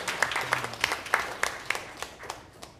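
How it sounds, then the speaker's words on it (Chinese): Scattered applause comes from a church congregation for two children, a thin crowd with distinct individual claps at a loose, uneven rhythm that thins out toward the end, with a brief voice underneath early on. "请2位小朋友那个鼓掌一下吼，来鼓励一"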